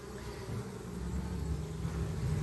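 Buckfast honey bees buzz continuously at a narrowed hive entrance, a steady low droning hum of many wings that holds at moderate loudness without any voices.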